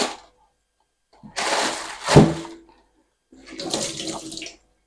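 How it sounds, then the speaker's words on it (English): Vegetables being washed under a running kitchen tap: two bursts of splashing water separated by a short pause, close and fairly loud, with a brief clunk in between. "wash my vegetables before I chop them"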